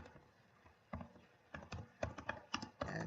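Short bursts of close keystrokes on a computer keyboard while C code is typed, a quiet run of clicks that grows busier toward the end.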